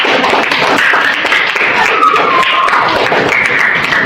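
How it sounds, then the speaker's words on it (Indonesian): A classroom group gives academic-style applause after a presentation, a short burst of brisk, fairly close clapping from several people that runs steadily throughout. "Tepuk tangan akademik"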